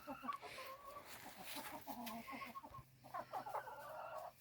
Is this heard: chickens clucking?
yes